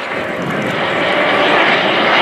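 A Eurofighter Typhoon jet roars past during an air display at RIAT 2018, a loud, broad, steady rush that swells slightly over two seconds.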